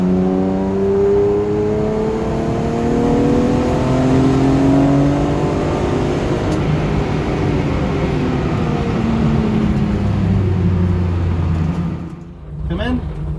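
BMW E36 M3 race car engine revving up and down in long sustained sweeps, loud and close throughout, with brief rising pitch near the end.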